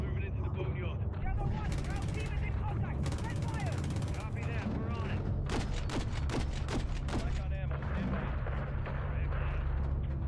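Heavy cannon and gunfire from an AC-130 gunship in the Modern Warfare 3 game, a dense barrage of booming blasts and bursts of repeated shots, loud and continuous throughout.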